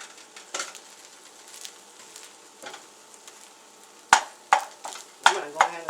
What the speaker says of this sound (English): I'm just shaking the pan here. It's a nice non-stick pan here.